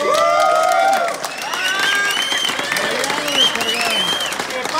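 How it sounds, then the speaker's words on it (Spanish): A lively crowd at a sonidero dance event claps and cheers loudly, with whoops and shouted voices rising over sustained applause, the noise close and continuous throughout. "Quiero que le den un fuerte aplauso."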